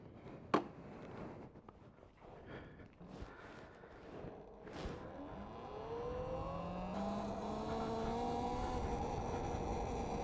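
Talaria X3 electric dirt bike accelerating, a rising motor whine that climbs in pitch and swells louder, starting quietly after a few knocks and thumps and then holding a steady high drone.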